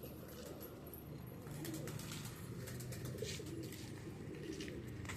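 Pigeons cooing close by in soft repeated low coos, a steady murmur of several birds with faint chirps over quiet background.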